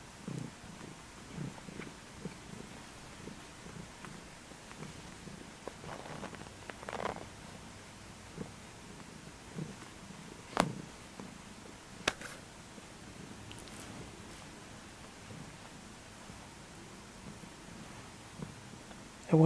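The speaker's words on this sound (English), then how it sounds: "I wanted you guys to hear him purring because he was purring so loud." A feral cat purrs steadily and close up in a quiet room, a soft continuous rumbling pulse broken by a few small rustles.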